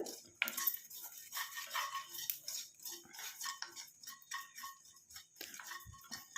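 Nigella seeds, fenugreek and mustard seeds dry-roast in a pan while being stirred constantly, giving quiet, close scraping and light ticking clinks of a spoon against the pan at an uneven pace.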